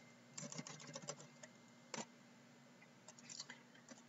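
Quick clusters of keyboard typing on a computer, crisp clicks in uneven bursts with a short pause, close and fairly quiet over a steady low hum.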